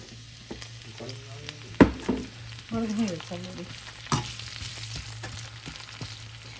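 Onions fry in reused oil in a pan, giving a low steady sizzle with a few louder bursts and intermittent clinks and scrapes as they are stirred.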